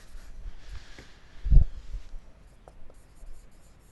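Chalk or marker writes on a board during a Lie algebras lecture: brief scratchy strokes with a firmer tap in the middle, close and moderately loud, without talk.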